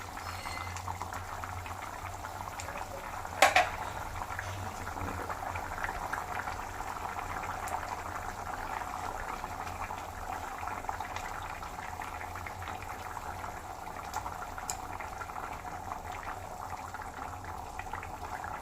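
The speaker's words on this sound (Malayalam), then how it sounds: "ഇങ്ങനെ നമുക്ക് തിളച്ച് നിൽക്കുമ്പോൾ ചിക്കൻ ഇട്ട് കൊടുത്തു കഴിഞ്ഞാൽ ഒരു പ്രശ്നമില്ല." Pieces of chicken cooking in a pot of water at a steady rolling boil, a continuous close bubbling with one brief clatter early on and no talking.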